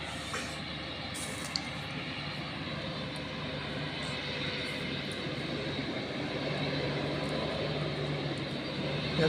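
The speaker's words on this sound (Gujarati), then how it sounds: "ટ્રેક્ટર આવે હવે." A tractor engine drones steadily at a farm field being ploughed in Israel, a continuous low rumble that stays fairly even in loudness and swells slightly toward the end, with no voices.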